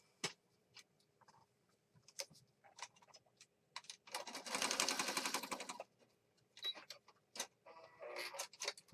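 A sewing machine stitches a junk journal page in a quiet room. Scattered ticks and clicks lead into a dense two-second burst of rapid stitching, followed by more short irregular bursts.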